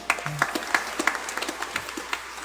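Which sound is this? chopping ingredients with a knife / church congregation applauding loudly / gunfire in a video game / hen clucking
church congregation applauding loudly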